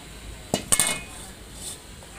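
A couple of sharp metallic clanks from a frying pan knocking against something hard, close by, followed by quiet room noise.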